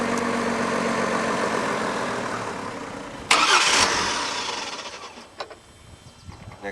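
The engine of a 2002–2004 Chevrolet Trailblazer with a 4.2-liter inline-six idles with a steady hum, then a sharp clack as the fuel pump relay is pulled and a brief surge of noise before the running engine settles again.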